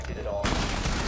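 Gunfire from pre-firing in a competitive shooter: a loud continuous burst of shots kicks in partway through, with a voice talking underneath.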